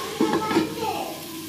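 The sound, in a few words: okra frying in a pan with salt and turmeric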